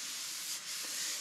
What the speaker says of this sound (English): And we'll just keep sanding here.